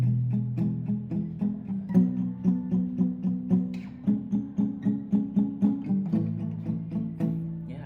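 Muted, chunky palm-muted guitar strumming in a steady rhythm, each stroke short and dampened, repeating up close with no voices.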